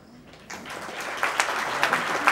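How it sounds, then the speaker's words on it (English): An audience at the Jagran Film Festival Awards in Mumbai breaks into applause, a dense wash of clapping that swells after a quiet start and carries several sharper peaks, with no one talking. "Just clap more, guys."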